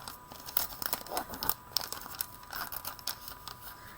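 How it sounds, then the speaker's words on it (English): Packaging tearing open along its seam line, a close, faint series of crinkling, ripping bursts spaced irregularly over a few seconds. "this will really just tear right along the seam line"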